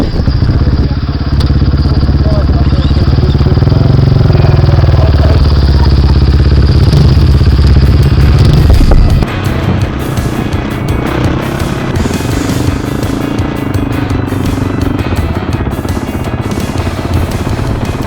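Enduro motorcycles riding over sand dunes in the Qatar desert, with a loud, close engine drone that drops in pitch and level partway through, then continues with clattering rattles.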